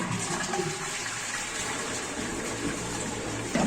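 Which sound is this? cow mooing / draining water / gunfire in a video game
draining water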